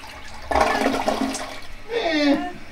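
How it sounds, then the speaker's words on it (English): Toilet flush aboard the Star Wars Galactic Starcruiser hotel, a sudden loud whoosh of rushing water followed by a gurgling, swirling drain and a second surge of refilling, close and uninterrupted by speech. "We gotta do the flush test."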